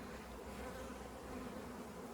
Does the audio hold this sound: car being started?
no